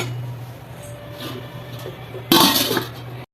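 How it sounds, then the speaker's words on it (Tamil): A sharp metallic clatter as a lid drops onto a pot of sambar, ringing briefly over a low steady hum of background noise. "இப்போ நான் மூடி வச்சிடுறேங்க"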